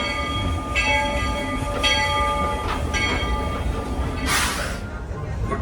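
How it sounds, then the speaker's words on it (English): A Disney Magic Kingdom railroad train departing Main Street Station rumbles steadily along the rails with a harmonic whistle-like tone sounding repeatedly, followed by a brief hiss of air. "so now we're gonna ride the railroad. You're gonna hear it."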